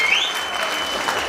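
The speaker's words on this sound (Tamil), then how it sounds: "அந்த இசை கலைஞர்களுக்கு ஒரு நல்ல கைத்தட்டி கொடுங்க." An audience claps for the musicians at a Tamil music-themed comedy debate stage show, with dense, loud applause throughout that carries a little crowd noise.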